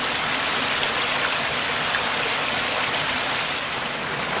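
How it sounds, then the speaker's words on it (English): Small water cascade trickling inside Signal Point Cave near Chattanooga, a steady, even wash of splashing and dripping water heard close and unbroken throughout. "Beautiful little trickling cascade."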